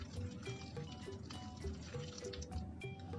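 Water trickles and drips little by little into a dadar gulung crepe batter tinted with butterfly pea flower, a soft, steady pouring sound with small splashes, fairly close and quiet.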